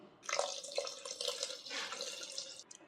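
Water is poured into a pot of goat intestines for soup, a soft steady splashing trickle lasting a few seconds, faint and close with no voices.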